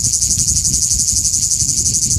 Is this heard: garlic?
no